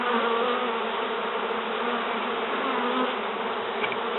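Honey bees swarm around a hive, their dense, continuous buzzing filling the whole clip at a steady level, close and loud, with no speech.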